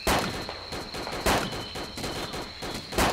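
Gunfire in DayZ, rapid repeated shots with a few heavier cracks standing out, loud and continuous across about three seconds.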